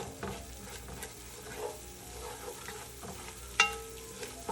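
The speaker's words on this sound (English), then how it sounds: "Let's get that raw spicy smell to dissipate by sauteing all of this together." Spices sautéing together in a pan, meant for coconut curry mussels, give a soft, steady sizzle with light scraping of a stirring utensil and one sharper clink, heard close and fairly quiet.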